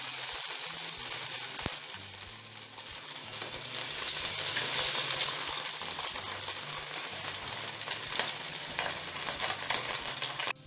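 Loud, continuous frying sizzle of squeezed grated potato in a pan, swelling in the middle, with a few scraping stir sounds and a sharp tap; nobody speaks.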